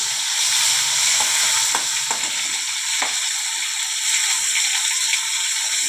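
Chopped tomato frying in a pan for vegetable dal, giving a steady, loud, close sizzle throughout with a few sharp clicks from stirring.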